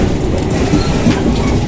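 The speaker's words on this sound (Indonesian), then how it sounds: "Wow, ini kereta dari Cina." A Chinese-made commuter train rolls into Sudirman station in Jakarta with a dense, steady rumble and clatter of wheels on rails, close and loud.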